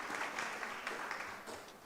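A crowd at a community meeting in a Tobago community centre claps in a soft, steady patter that fades slightly toward the end, with no voices heard.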